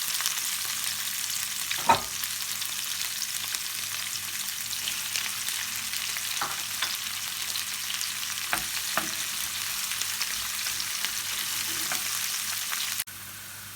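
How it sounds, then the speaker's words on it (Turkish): Steady broadband sizzle of vegetables and onion frying in oil in a pot, continuous and fairly close, with a few soft clicks and scrapes of stirring. "Aynı tencere ve yağ içerisinde sebzelerimizi kavurmaya başlıyoruz."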